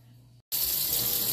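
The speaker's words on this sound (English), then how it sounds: "Now I wash my mushrooms, y'all." Water runs hard from a kitchen tap as mushrooms are rinsed under it while cooking spaghetti squash; a steady loud gushing stream starts after a brief quiet gap and continues.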